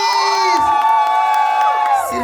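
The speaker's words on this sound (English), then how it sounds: "Okay, Team Sharanya and Team Kedar, be ready for the loudest cheer, okay?" Guests at a wedding haldi ceremony cheer loudly, a dense burst of high shouts and whoops from a crowd that fills the short moment without pause.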